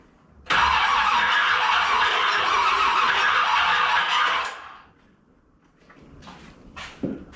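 A 1981 Chevrolet Corvette engine cranks on a weak, dying battery with a strained, steady grinding whir for about four seconds, then stops; faint clicks and rustles follow.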